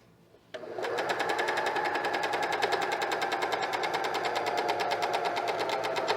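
A cover stitch sewing machine starts up and runs steadily, sewing picot elastic with a fast, even mechanical whir and rhythmic needle chatter that holds at constant speed close by.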